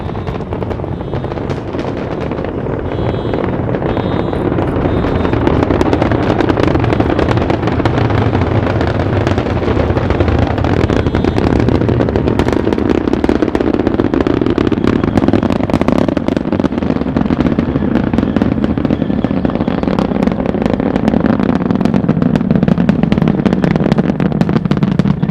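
Space Shuttle Atlantis's three main engines roar steadily at launch on mission STS-27, a continuous broad, crackling rumble that holds loud and dense from start to finish with no voices over it.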